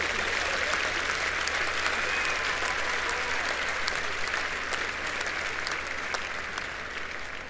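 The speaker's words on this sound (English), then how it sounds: "this was a round of applause for your team" Sustained audience applause fills a Lufthansa design event hall, dense steady clapping from a large crowd lasting throughout and tapering only slightly at the end.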